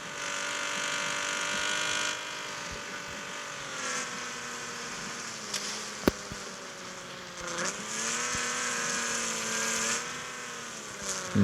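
A Cadillac Escalade with an LSA engine swap and a 10-speed automatic in the video game CPM2 revs hard in a continuous, loud engine drone whose pitch rises and dips, with a brief sharp click partway through.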